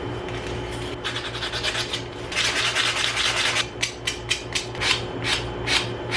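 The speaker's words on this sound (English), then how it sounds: "I think I'll have more control over an actual piece of sandpaper." A piece of sandpaper is worked by hand over a curved surface, making close, loud, rough rubbing strokes that start steady and then turn into distinct rhythmic back-and-forth rasps.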